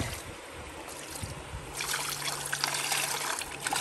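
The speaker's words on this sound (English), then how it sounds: "I'm going to pour that water in the pan." Water poured from a carried container into a gold pan during outdoor sluicing, a steady close trickling and splashing that grows louder partway through, with no talk.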